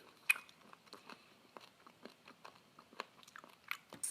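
Close, quiet chewing of Korean LA galbi BBQ short ribs, a run of soft moist bites and squishy chews at an irregular pace, with no talking.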